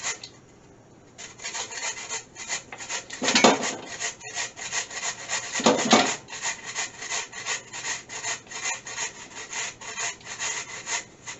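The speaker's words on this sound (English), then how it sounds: "I am going to be grating all 10 of these potatoes" Ten raw potatoes are grated by hand on a grater, giving a steady run of close, rhythmic scraping rasps, one quick stroke after another, with a couple of louder, harder strokes.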